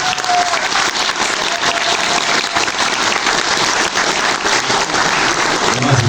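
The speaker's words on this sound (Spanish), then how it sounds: "Fuertes palmas." Loud, dense applause from an audience at a book presentation in Arequipa, Peru, strong continuous clapping sustained evenly from start to finish with no talk over it.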